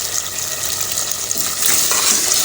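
Pumpkin and meat frying in a pan, a steady close sizzle with faint stirring scrapes, swelling slightly louder near the end, with no talking.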